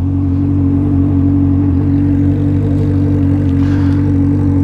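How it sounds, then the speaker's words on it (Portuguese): Many motorcycles ride together in a convoy at a motorcycle event, producing a steady, loud, continuous engine drone throughout with no break. "Olha, muita moto."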